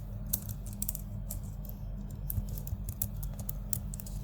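Irregular keystrokes on a computer keyboard while writing Django database code, a steady patter of light clicks over a low hum, fairly close and quiet, with no voices.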